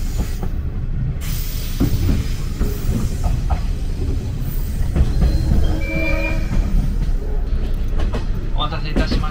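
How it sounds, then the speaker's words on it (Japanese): A 185 series Odoriko limited express train pulls out of Ito station, heard from inside the carriage as a low rumbling roll with faint clicking wheels and a hiss, with an onboard announcement voice over it. "特急踊り子16号伊東駅を発車しました"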